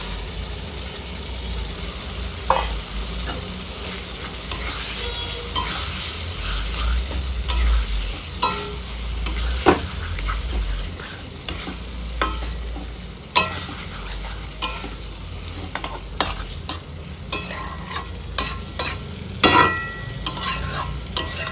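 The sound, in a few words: marinated chicken sizzling and stirred in frying masala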